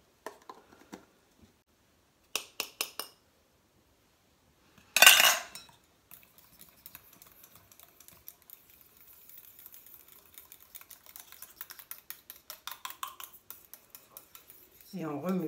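A spoon scrapes and clinks against a small container while dry-skin cream is mixed, giving a few sharp taps followed by a long, quiet run of light stirring clicks.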